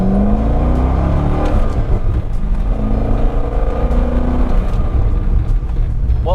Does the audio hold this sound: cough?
no